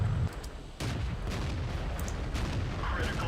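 Tank cannon fire in a World of Tanks historical battle, heard as a fairly faint muffled boom under a steady rumble of engine and battle noise, with a second dull thump shortly after.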